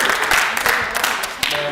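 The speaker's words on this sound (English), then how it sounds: "Let's get a round of applause for the musicians tonight." An audience at a gospel music event applauds the musicians, with a brief, dense burst of many hands clapping together in a loud, continuous patter.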